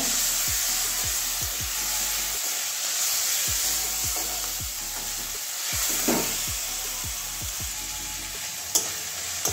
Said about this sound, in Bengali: এবারে রসুন কুচি দিয়ে দেবো। এটাও কাঁচা গন্ধ যাওয়া পর্যন্ত ভেজে নেব।